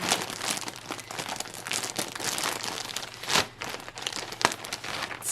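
A bag crinkles and rustles up close in a continuous run of crisp crackling, with a few sharper crunches standing out.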